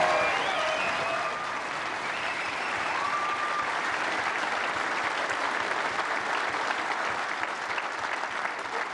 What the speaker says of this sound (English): Let's hear it one more time for Ronnie O'Sullivan and Fan Zhengyi.